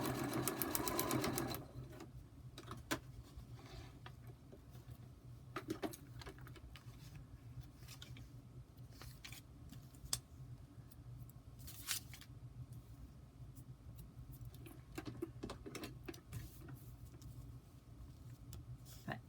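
A sewing machine stitches a short foundation paper piecing line on a hummingbird quilt block, a brief louder burst of running at the start, then faint intermittent stitching with soft clicks and taps over a quiet hum.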